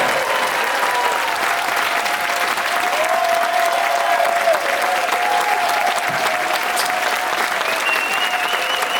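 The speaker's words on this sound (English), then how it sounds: "I'm going to ask you, ladies and gentlemen, for a round of applause, maybe even more" A theatre audience aboard a cruise ship gives a loud, sustained round of applause at a world-cruise farewell show, with thick, unbroken clapping and some cheering woven through.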